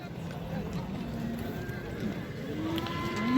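Horses neigh and whinny with hooves clip-clopping at an open horse market, close and loud, while people talk over the animals throughout.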